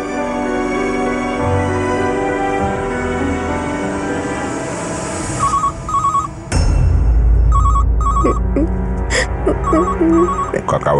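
A telephone ringing in a drama scene, with repeated electronic ring bursts in the second half over a loud musical background and sudden dramatic sound effects.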